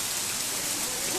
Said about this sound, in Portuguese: Enquanto isso, a chuva vai caindo, ó.